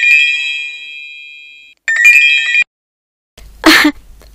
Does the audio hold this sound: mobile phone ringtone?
yes